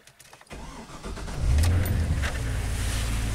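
A GM truck engine cranks and catches after a quiet moment, settling into a steady, loud mid-pitched idle close by.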